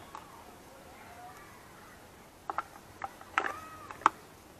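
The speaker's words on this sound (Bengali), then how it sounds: "এবং এখানে লাগিয়ে দেবো ব্যাক কভার।" A plastic back cover being fitted onto a Paytm sound box, a few sharp clicks and snaps clustered near the end after a quiet stretch, close and fairly soft, with no talking.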